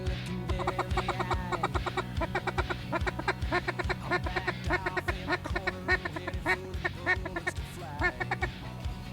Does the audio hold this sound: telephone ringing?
no